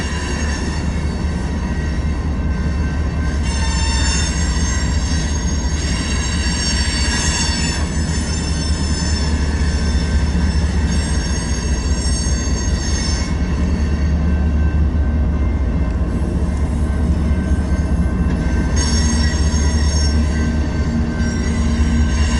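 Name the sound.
passing train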